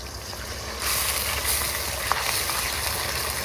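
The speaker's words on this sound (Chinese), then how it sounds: "葱姜蒜爆香" Scallion, ginger and garlic crackle in hot oil for seafood cooking, a steady broadband sizzle that swells louder after the first moment and carries on close and continuous, with no voices.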